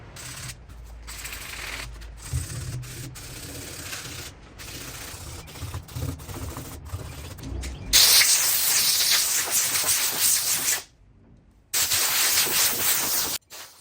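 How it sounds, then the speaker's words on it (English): Sandpaper rubbing over body filler on a C10 truck, a steady close scratchy hiss in repeated strokes, growing louder and harsher partway through, with a brief pause before it resumes. "I'm gonna make sure I sand all this really good"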